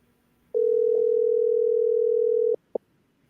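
Steady telephone dial tone while placing a call, one loud continuous hum lasting about two seconds, then a short click-like blip; no voices.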